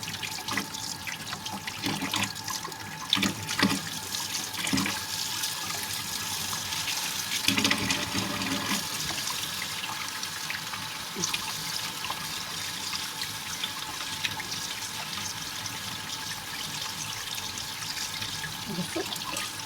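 Tap water runs steadily into a sink while frozen mullet fish are rinsed, a faint continuous splashing with occasional handling knocks and no speech.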